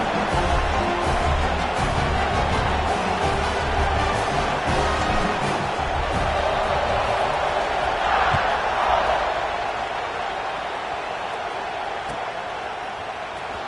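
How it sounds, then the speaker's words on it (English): College football stadium crowd buzzing before a kickoff, a broad, dense roar of many voices that holds steady and then eases slightly toward the end. "this crowd is buzzing after that last score"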